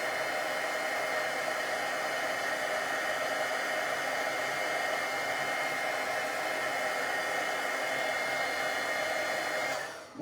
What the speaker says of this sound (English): since my heat gun is warm